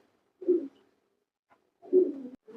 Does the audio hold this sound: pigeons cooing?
yes